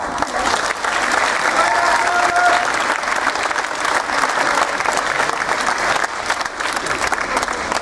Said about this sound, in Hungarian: Köszönjük meg nekik is egy nagy tapsal